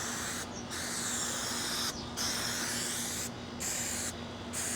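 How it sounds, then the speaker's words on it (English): A spray gun hisses loud and close while painting the front of a boat door panel, in several bursts of about a second or more. Short pauses break the spraying, with a low hum underneath throughout. "Now I'm going to spray this side of it, which is the front of the door panel."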